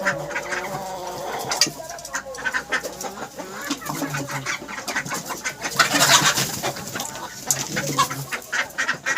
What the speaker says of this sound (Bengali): কালো মোরগ